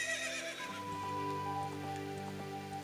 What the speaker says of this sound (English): neighed in excitement at the thought of her next meal.